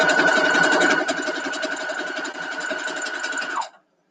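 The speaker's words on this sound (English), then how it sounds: "I'm going to go ahead and sew these together real quick so that we have it." A sewing machine stitches quilt pieces for a nine-patch block, humming in a fast, steady run of needle strokes for about three and a half seconds before stopping abruptly.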